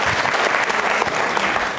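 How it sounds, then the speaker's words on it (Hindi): Dense, loud applause from a studio audience at a televised quiz show, a brief continuous wash of many hands clapping with no speech over it. "तालियां जोरों से बजाइए इनके लिए, तालियां।"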